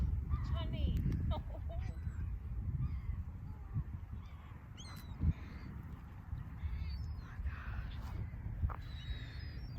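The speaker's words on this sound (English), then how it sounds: "Got all those birds." Birds call from a Lake Erie beach near a pier, with scattered chirps and honking cries rising above steady wind and water rumble outdoors.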